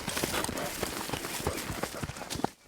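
Horse hooves clip-clopping steadily across an open battlefield at Little Bighorn in Montana, a quick rhythmic series of close thuds under faint background noise, with no talking.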